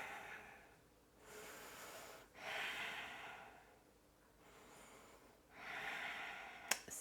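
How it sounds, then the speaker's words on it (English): Slow, deep breaths during a yoga flow, close and quiet, form about three full inhale-exhale cycles in an even rhythm, ending with a brief sharp click. "Breathing."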